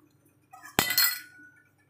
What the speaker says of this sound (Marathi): टोपावर झाकण ठेवत आहे